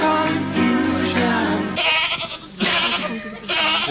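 Sheep bleating dropped over a pop song on a TV music quiz, several loud bleats in short bursts standing out above the music.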